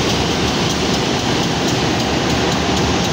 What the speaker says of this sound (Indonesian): Jadi dia SC206 di Induk Cirebon yang akan tenagai kereta api Rangkajati sampai dengan Madiun